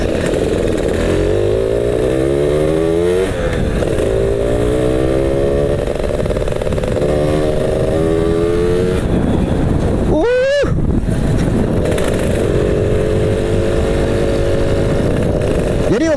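A Yamaha Alfa motorcycle engine fitted with a racing CDI revs hard and continuously, pitch climbing and falling through repeated rising sweeps, with one sharp high rev spike midway; loud, close and raw throughout.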